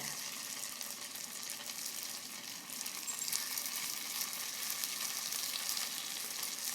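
Pierogi with a sweet cheese filling fry in a pan, producing a steady, fairly loud hiss of sizzling oil that runs unbroken throughout.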